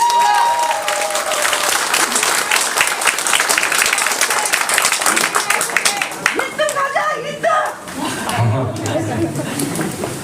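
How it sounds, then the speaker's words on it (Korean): Loud, sustained applause from a press-conference audience at a Korean candidate's announcement to run for Incheon mayor, dense clapping filling the room with some crowd chatter and voices mixed in before it thins out. "큰 박수 다시 한번 부탁드리겠습니다."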